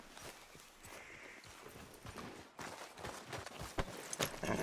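Horse hooves clip-clop steadily at a walk in Red Dead Redemption 2, a continuous rhythmic patter of close, moderately loud footfalls over an ambient outdoor background with no talking.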